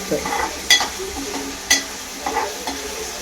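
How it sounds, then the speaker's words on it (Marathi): Onion and tomato frying in oil in a pan while being stirred, giving a steady sizzle with a few sharp spoon-against-pan clinks scattered through it. "तर पहिल्यांदा आपण तेलात कांदा टाकलाय आहे टोमॅटो टाकला"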